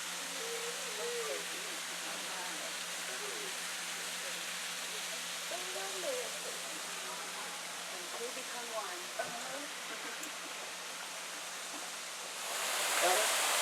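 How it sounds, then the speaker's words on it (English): Broadband rushing water from a waterfall at Dogwood Canyon Nature Park in Missouri hisses steadily in the background, with people talking intermittently over it and a louder surge near the end. "take a look at the waterfall that's in the background"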